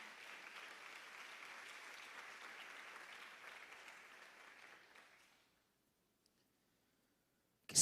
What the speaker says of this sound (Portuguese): Você consegue aplaudir a Jesus pela sua palavra?